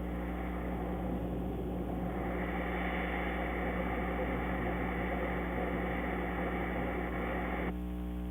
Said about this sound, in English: By connecting the keyboard to the filters, a melody can be played by filtering the jet noise